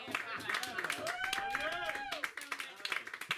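Audience applause at a comedy open mic, a burst of scattered clapping from a small crowd with cheering and voices over it, tapering off toward the end.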